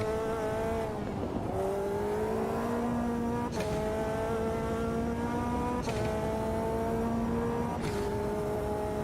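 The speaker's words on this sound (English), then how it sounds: "This car doesn't sound too bad" A race car engine in the Automobilista 2 sim racing game screams through repeated gear upshifts, each rising whine cut by a brief drop before climbing again, loud and steady throughout.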